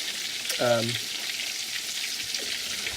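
Pork steak frying in oil, a steady close crackling sizzle throughout, with a brief voiced sound partway through.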